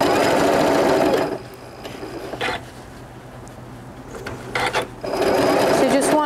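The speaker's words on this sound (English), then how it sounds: "We're going to base stitch across the top here to hold this together before we add the tie." A sewing machine runs a long basting stitch across the top of an apron and its lining, whirring loudly at the start and again at the end, with a quieter stretch and brief knocks between.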